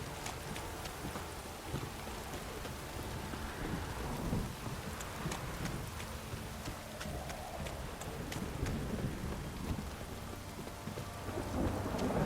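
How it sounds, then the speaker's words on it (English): Rain and thunder from The Witcher 3: Wild Hunt: steady heavy rainfall patters continuously, with low rumbling thunder swelling beneath it and faint hoof-like clopping mixed in, no speech. "Don't stop raining, my arse will rot off."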